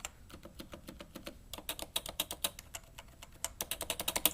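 Keystrokes on a Topre Type Heaven keyboard, including presses of the shift keys, come in a quick, even stream of close, rounded clicks with short pauses between bursts and no talking.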